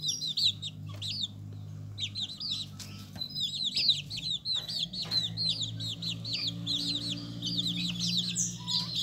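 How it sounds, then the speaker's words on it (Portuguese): Chinese quail chicks in a box give constant high, thin peeping and chirping calls, close and fairly faint, over a low background hum. "Aqui estão os pintinhos da caixa."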